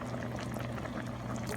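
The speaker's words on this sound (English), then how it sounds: "I'm gonna add a second 1/4 cup of beer." Beer pours into a pot of boiling chili beans, a soft, steady splashing pour mixed with the bubbling simmer, quiet and close with no voices.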